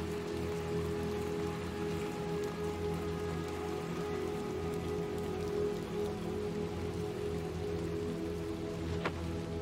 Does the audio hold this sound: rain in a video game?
yes